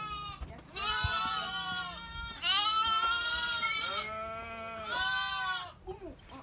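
A lamb bleats repeatedly on a sheep farm, three loud, drawn-out wavering calls heard close up, with faint background noise and no one talking over them.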